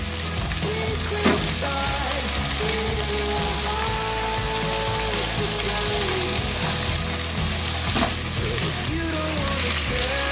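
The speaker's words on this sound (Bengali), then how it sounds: "পেঁয়াজের সঙ্গে এটা ভাজা হবে" Onions frying in a pan for a mango chicken curry, with potatoes about to be added, give a steady loud sizzle that runs unbroken throughout, with a few faint clinks of a utensil and no talk.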